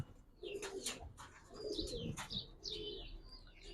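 Giribaz pigeons in a loft give soft repeated coos with a few higher chirps, close and steady in short bursts.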